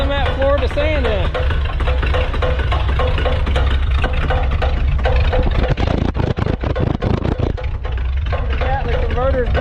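A Ford F-350 shorty truck with a failing torque converter and a dragging transmission runs with a steady low rumble beneath nearly continuous nearby talk.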